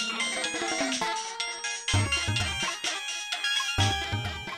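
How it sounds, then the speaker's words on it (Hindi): A phone ringtone plays during a comedy sketch as a call is placed to a wrestler: a bright, repeating melodic jingle with chiming tones, fairly loud and alone, with no speech over it. "बबलू, बिरजू पहलवान को फोन लगाओ।"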